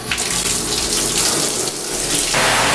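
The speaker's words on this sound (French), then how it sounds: "le vibe c'est d'aller dans la douche qui va être froide" Cold water runs in a shower as a steady, close, loud hiss and splash that keeps going without a break, with a slight surge in force near the end.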